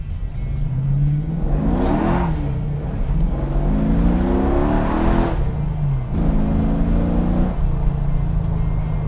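A custom 1971 Cuda's engine revs hard and loud up through the gears, pitch climbing and dropping at each of several shifts in close, continuous acceleration.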